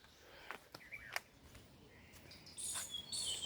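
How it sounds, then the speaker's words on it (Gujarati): A few faint, scattered bird chirps and calls on a quiet green hillside, with a higher trilling burst toward the end and no voices. "પક્ષીઓનો કલરવ સાથે તમે પણ અત્યારે સાંભળી શકતા હશો"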